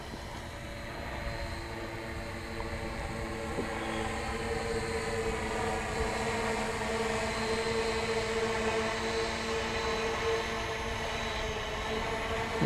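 F5U RC model aircraft coming in to land, its electric motor a steady, droning whine that holds fairly loud and even throughout, with no voices.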